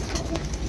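Soft cooing of Bhanwra breed pigeons, a low murmuring coo within a dense, steady background over under a second.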